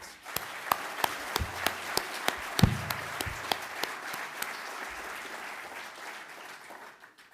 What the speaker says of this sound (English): Let's give them all a well-earned round of applause.